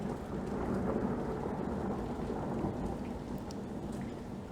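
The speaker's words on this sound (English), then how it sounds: "It is raining outside and we got intermittent thunder here and there." Steady rain falling outside with a low rumble of thunder rolling underneath, faint and distant, continuous for a few seconds with no talking.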